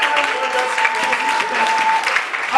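Audience at a French-language sermon applauding on request, a steady close wash of clapping held for the whole moment.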